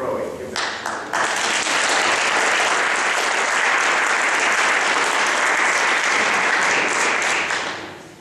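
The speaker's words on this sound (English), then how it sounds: "Give them a round of applause." Loud, dense audience applause fills a choral festival hall for a high school choir, starting with a few claps, swelling quickly into a steady roar of clapping, then tapering off at the end.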